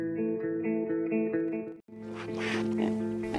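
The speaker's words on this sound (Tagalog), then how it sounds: "Wen, Ma'am Narda, padasag nga aywanan dagiti baboy." Pigs oinking, a run of tonal, almost musical grunts in a repeating rhythm, then a brief silence before louder, rougher squeals and snorts that fill the rest, close and prominent.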